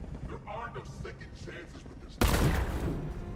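A tank's cannon fires in Batman: Arkham Knight, one sudden heavy boom with a rumbling tail, following a stretch of quiet talking.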